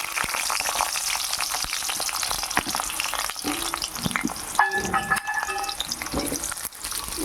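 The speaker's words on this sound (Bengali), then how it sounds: "এইবার আমি আলু কটা এই তেলে ভাজা করে নেব।" Potatoes frying in hot oil give a steady, dense sizzle that runs throughout, with a few brief clinks and stirring scrapes of a utensil partway through.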